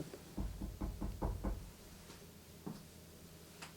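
Footsteps on a floor inside a house during a paranormal investigation: a quick series of about six soft thuds, then a lone later step, faint and close, with no talking.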